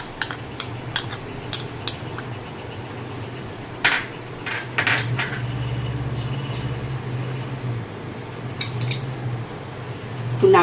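Cashew paste and mustard-poppy paste being mixed together in a bowl for malai paneer, heard as a quiet run of scattered clinks and scraping over a steady low room hum, with a louder clatter near the end.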